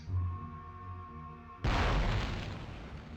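Rocket-propelled grenade fired and exploding in the war video game Conflict: Desert Storm: after a steady low hum, a sudden loud boom erupts midway and rolls on as a dense, noisy blast that slowly fades.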